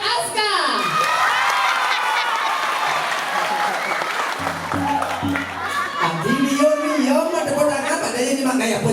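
A crowd at a temple event at Pura Dalem Jati Penarungan applauds, with sustained clapping, scattered cheers and children's shouts, and voices rising and calling out near the end.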